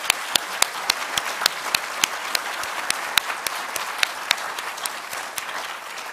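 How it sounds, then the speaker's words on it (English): An audience at an awards presentation ceremony claps at a steady pace, with sharp individual hand claps standing out over a constant bed of applause. "Please give them a round of applause."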